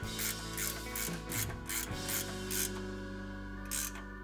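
A ratchet tightens a bolt on a bumper bracket during a CBI T3 Covert half bumper install, giving several bursts of quick clicking pawl strokes with short pauses, close and moderately loud.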